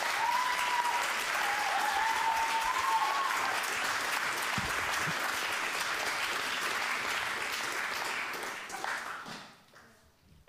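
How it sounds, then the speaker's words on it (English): Audience at a comedy and dissent event gives its speakers warm, sustained applause, a thick continuous clatter of hands with a brief whistle early on, tapering off near the end. "And another warm applause for our three speakers now"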